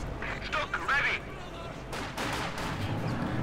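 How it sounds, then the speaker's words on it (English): Cannon shots from a StuG assault gun in the Company of Heroes 2 strategy game, heard as a loud blast and later heavy firing over dense battle noise, with a commentator's voice partly overlapping. "Stug arrives. First shot is a miss."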